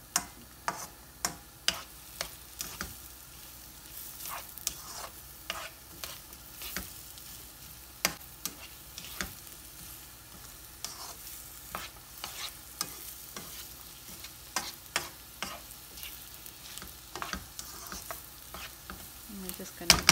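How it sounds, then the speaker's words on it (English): Food browns in a pan on medium heat for a homemade chicken bread, a low steady sizzle punctuated by regular sharp clicks and taps of stirring throughout, close and with no talking. "We're just going to let that carry on browning."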